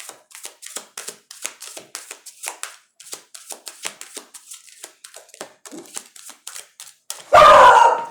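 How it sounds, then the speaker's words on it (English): Tarot cards being shuffled by hand during a zodiac reading, a long run of quick crisp riffling taps close by, ending in a loud burst of rustle. "One more shuffle, please."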